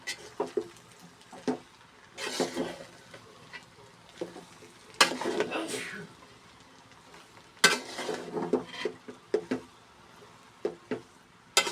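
Vegetable noodles are stirred and tossed in a pan, with a spatula scraping and clacking against the metal in bursts over a soft sizzle, close and fairly quiet.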